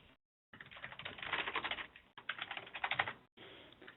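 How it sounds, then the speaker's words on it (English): Close, quiet typing on a computer keyboard comes in two quick runs of rapid key taps, each separated by a brief silence. "just type in the name of the procedure here in this box"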